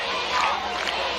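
Large crowd gathered for Fidel Castro in Cuba roaring and cheering at a distance, a steady wash of massed voices that swells briefly in the middle.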